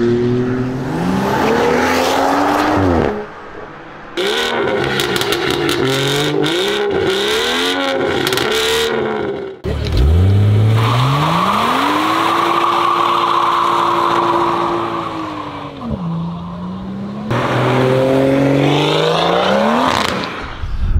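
A BMW 140i engine revs repeatedly, rising and falling in pitch with loud, sustained pulls and a long held high rev in the middle, the car close by and no one talking.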